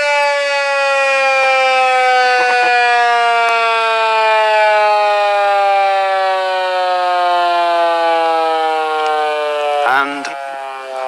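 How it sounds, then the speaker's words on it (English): An original wartime air raid siren wails loudly nearby with a rich, steadily falling pitch as it winds down, brief knocks and clatter breaking in near the end. "Original wartime siren."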